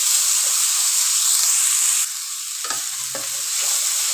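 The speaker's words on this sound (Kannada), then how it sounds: "ಈರುಳ್ಳಿ ಚೆನ್ನಾಗಿ ಫ್ರೈ ಆಗಲಿ ಒಂದು ಸ್ವಲ್ಪ ಬ್ರೌನ್ ಕಲರ್ ಬರಲಿ" Onions frying in a pan until brown, a bright steady hissing sizzle that softens midway, followed by a couple of brief scraping stirs.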